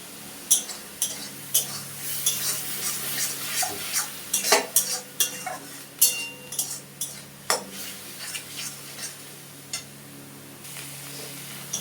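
Spices sauté in a pan with a soft sizzle beneath repeated sharp scrapes and clinks of a spoon stirring against the metal, the strokes coming in an uneven rhythm close by.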